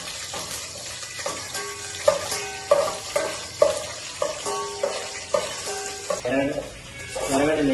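Grated onion fries in a pan for biryani and is stirred with a spoon, a steady sizzle broken by repeated scraping strokes; background voices and clinks sound faintly underneath.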